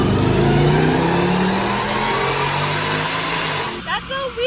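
Jeep Trackhawk engine revving hard on a dyno pull on pump gas, a loud rising roar climbing in pitch before cutting off abruptly near the end, followed by brief voices.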